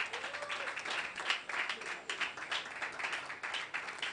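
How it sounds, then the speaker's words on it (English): Audience applause at an event welcoming a woman to the stage, steady clapping from a crowd with brighter individual claps rising and falling throughout. "Please keep clapping for her, please."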